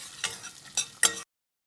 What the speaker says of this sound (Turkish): Cevizimi atıyorum tereyağıma bir süre kavuracağım